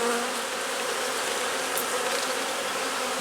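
Honey bees buzzing continuously and loudly as a hive is worked frame by frame, a dense, even drone close by with no voices.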